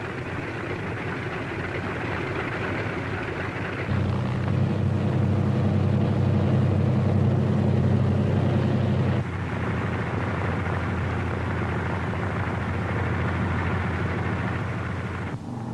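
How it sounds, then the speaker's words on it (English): Engines of C-47 transport aircraft at the head of a runway before takeoff, a steady loud droning roar that swells into a heavier low rumble midway, then eases back to a constant drone. "other C-47s move into position for their takeoff at the head of the runway"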